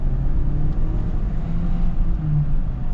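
A 2024 Ford Edge ST-Line pulls hard under acceleration, its engine droning loudly and steadily from inside the cabin, with a low rumble that shifts slightly in pitch as it climbs.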